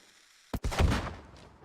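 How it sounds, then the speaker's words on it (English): A single cannon shot in a video game bursts out sharply after a quiet moment, then rolls into a deep, booming rumble that fades slowly over about a second. "I'm firing a cannon."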